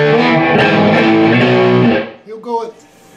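Distorted electric guitar playing the B lick from a song, a short burst of overdriven notes that rings and then cuts off, followed by a brief quiet sound.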